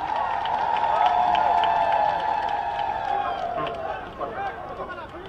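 A crowd greeting the chief minister at a public gathering raises a sustained, wavering ululation with scattered clapping, loud and continuous, while someone speaks over a loudspeaker.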